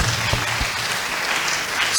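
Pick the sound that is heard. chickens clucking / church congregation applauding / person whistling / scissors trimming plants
church congregation applauding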